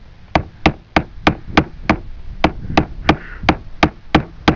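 A hammer drives a number 3 nail into wood for a shed door, about thirteen sharp, evenly spaced strikes at a steady rhythm, close and loud; the nail bends in the hard wood.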